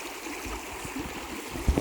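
Water trickling steadily through a garden pond overflow, a soft continuous flow with a few brief splashy gurgles toward the end.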